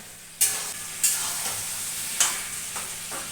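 Fried pointed gourd pieces stirred into a sautéing curry in a pan, a steady close sizzle broken by three sharp scraping clatters of the spoon against the pan.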